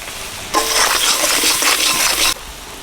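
Ginger-garlic paste with turmeric, dried chili and cumin powders hitting hot oil: a sudden loud sizzle bursts out, holds for about two seconds, then cuts off sharply.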